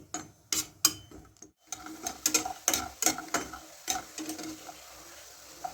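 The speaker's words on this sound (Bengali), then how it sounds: "আমি এখানে মটর ডালের বড়ি দিয়ে দিলাম ভেজে নেবো মটর ডালের বড়িটা" Homemade pea lentil bori dumplings fry in hot mustard oil, making irregular crackling pops and spatters, with short bursts and brief pauses between them, close and fairly quiet.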